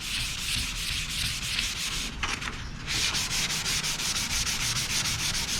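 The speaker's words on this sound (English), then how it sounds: "hand sanding, I'm not wearing my mask" Wood being sanded by hand with sandpaper, a continuous rhythmic scratchy rubbing with quick back-and-forth strokes and a brief pause midway, close and steady without any talk.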